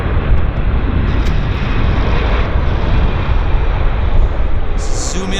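An airliner touches down at Vancouver airport with a loud, dense, continuous roar of engine and rushing noise, steady from start to finish, with a faint higher sound near the end.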